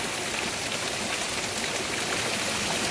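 Waterfall pouring into a natural hot spring pool along a scenic byway, a dense, steady rush of falling water filling the scene at close range with no pauses and no voices.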